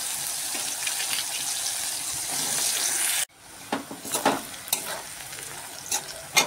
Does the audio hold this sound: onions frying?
yes